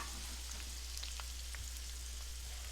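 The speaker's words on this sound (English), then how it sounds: "We're gonna saute the onions and the peppers." Onions and peppers sautéing in a pan for pepper steak: a faint, steady sizzle with scattered soft crackles and pops, heard alone over a low background hum.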